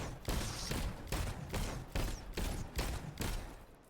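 Rapid weapon fire in the video game Destiny, sounding as a series of about seven loud, evenly spaced bursts that each rattle for a moment, close and dominant with no talking.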